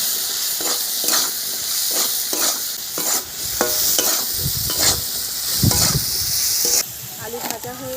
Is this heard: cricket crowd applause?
no